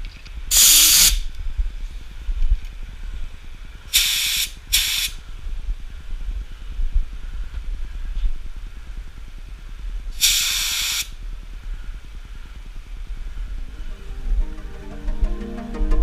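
A spray gun applying tri-coat car paint in short bursts of loud airy hiss, four passes spaced across a quiet stretch with a low background hum.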